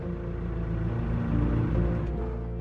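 A car engine rumbles low and steady nearby, swelling slightly as the vehicle pulls in and settles into a parking spot, an audio drama effect with no talk.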